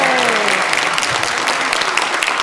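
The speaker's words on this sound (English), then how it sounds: "we will all clap and rejoice in the closing of the 137th annual meeting" Dense applause from an audience closing an annual meeting, many hands clapping at once in a loud, steady burst that carries evenly across the whole stretch.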